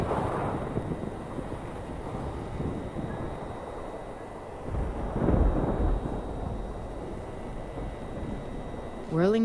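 Video game thunderstorm with lightning: low rumbling thunder rolls over a dark windy backdrop, swelling in a deep boom midway, with a brief tonal game sound at the very end.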